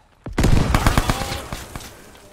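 A frag grenade detonates in the Vietnam War shooter SOG Prairie Fire: one sharp, loud blast followed by crackling debris and a rumbling tail that fades over about two seconds.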